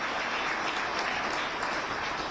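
Steady, dense applause from an evening audience at a Roanoke City mayoral candidate forum, sustained at an even level and moderately distant throughout with no voices over it.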